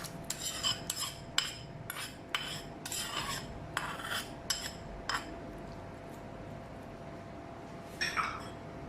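Onion, ginger and garlic paste stir-fried in a pan, with a metal spoon scraping and clinking in a quick series of close strokes over a low steady hiss, then a pause and one last scrape.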